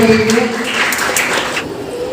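Children clapping together during a Vacation Bible School day at a church, a loud burst of applause that carries on and gradually thins, with faint voices underneath.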